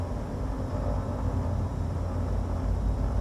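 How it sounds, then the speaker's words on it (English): Steady, even drone of a DA42-TDI twin-engine aircraft in a flight simulator game, a continuous low rumble with no talking over it. "That's the sound of the aircraft."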